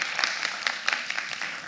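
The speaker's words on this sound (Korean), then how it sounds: "큰 박수 부탁드립니다." An audience at a Korean public-sector ESG management conference claps in a loose, scattered round of applause, moderately loud with many overlapping hand claps.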